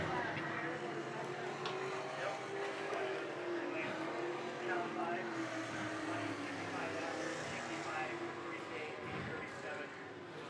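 Sprint race cars at a Midwest Modifieds event on the Cedar Lake Speedway oval roar together toward the finish, a steady, loud engine drone throughout, with a race announcer talking over it.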